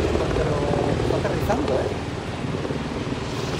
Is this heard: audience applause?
no